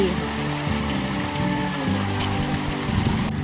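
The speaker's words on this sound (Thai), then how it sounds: "เราอยู่กันที่น้ำตกกินนารี" The Kinnari waterfall gives a loud, continuous rush of falling and flowing water that fills the scene steadily, with voices faintly present beneath the roar.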